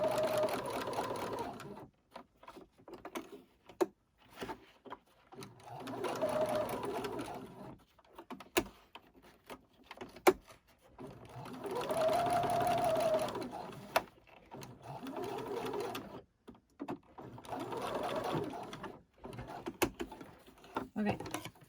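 A sewing machine stitches a waistband on a newborn-sized elf outfit in several bursts of rapid mechanical whirring, separated by pauses, close and clear with faint handling noises between runs.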